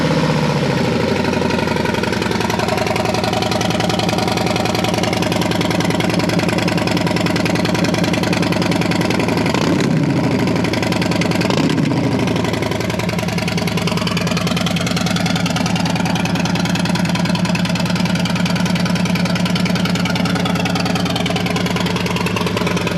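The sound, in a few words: Harley-Davidson FXLRST motorcycle engine idling, warm start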